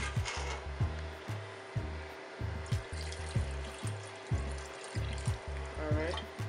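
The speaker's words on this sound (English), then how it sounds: "I'm going to add a little bit more water." Water being added to a pot of Jamaican curry goat as it heats toward a boil, a steady pour and splash under a repeating low rhythmic thumping, close by, with no voices.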